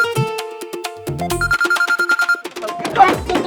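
A telephone rings with a melodic ringtone of repeated bright tones, loud and close, as an urgent call to a guard at a house is placed amid tense moments.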